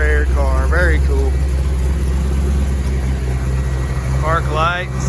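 A 1968 Ford Mustang with a big 428 Cobra Jet V8 and an electric cooling fan idles steadily with a deep, continuous low rumble, while someone talks over it for much of the time.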